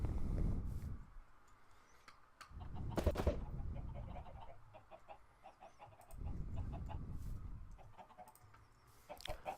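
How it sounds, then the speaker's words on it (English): Chickens clucking in the Minecraft Sky Factory 3 video game, with a few bursts of clucking rising and falling over about ten seconds against a quiet background, no talking. "Chicken, chicken, chicken. Chicken's gonna die."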